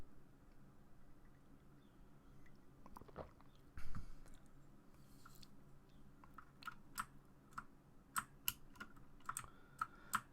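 Keyboard keys pressed during a Super Meat Boy platforming session, a run of sharp clicks and taps, fairly close and growing busier toward the end, over a low background hum.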